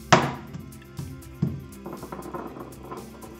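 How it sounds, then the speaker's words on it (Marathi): Dry dates wrapped in a cloth are struck with a mortar pestle, giving a few dull, close thuds spaced irregularly, the first the loudest, followed by softer knocks. "कापड झाकून घ्यायचं आणि खलबत्याचे सायाने हे फोडून घ्यायचे।"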